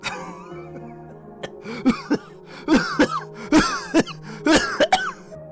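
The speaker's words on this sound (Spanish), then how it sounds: "Repentinamente una tos salió a la fuerza de mi garganta." Several harsh coughs and throat-clearing sounds come in quick bursts, close and loud, with strained breathy sounds between them.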